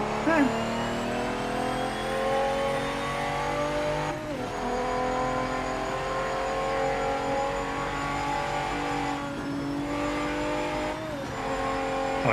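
A race car engine in the PC racing game PMR drones loudly and steadily, with pitch shifts as it revs and changes gear across the stretch, heard alone without talk.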